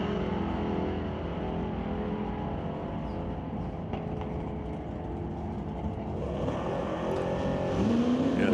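A big-block Chevelle drag race car at an NHRA drag strip holds a steady, loud engine rumble, with a second engine swelling in toward the end.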